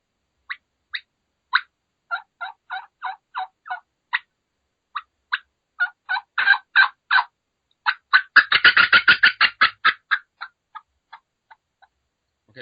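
Hand-operated turkey call imitating a hen's fly-down cackle: spaced sharp clucks that quicken into a dense, loud burst of rapid cackling, then trail off into slower, fading clucks, with no talking.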